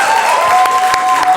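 Audience applause fills the hall at a student Question Time session, steady clapping from a crowd throughout with a few sharper claps standing out.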